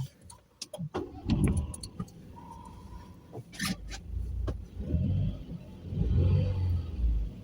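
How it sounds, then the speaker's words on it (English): A Citroen C3 engine running, heard from the driver's seat as a low rumble that swells and settles with light revving, mixed with clicks and interior thumps, no talk. "Nice little sounding engine."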